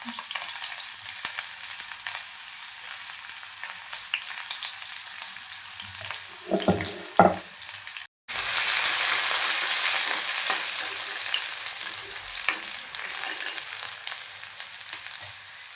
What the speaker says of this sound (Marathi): ऑइल छान गरम झालं की त्यामध्ये बारीक चिरलेला एक कांदा टाकूया